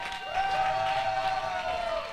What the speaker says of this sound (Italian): un applauso a Francesco Seo e Chiara Eraldi